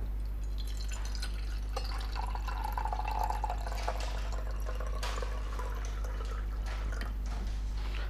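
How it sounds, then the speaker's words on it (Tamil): Water is poured into a coffee percolator from below, giving a steady trickling, dripping stream close by over a low constant hum, with no talking. "இங்கே கீழேருந்து இது முடிக்கும் தண்ணி ஊற்றணும் நான் வாட்டர் ஆட் பண்ணிக்கிறேன்"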